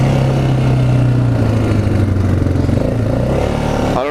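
A cheap used ATV, just revived from dead, runs with a loud, close, rattly engine that revs and shifts pitch continuously, ending in a brief squeal.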